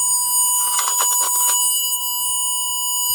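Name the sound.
continuity tester buzzer sounding on a shorted wire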